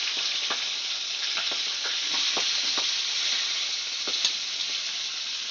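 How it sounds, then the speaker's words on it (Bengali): Pomfret fish frying in hot oil on a low gas flame, a steady close sizzle with scattered pops and spits throughout, no voices. "এবার আমি এক এক করে মাছগুলো লাল লাল করে ভেজে নেব।"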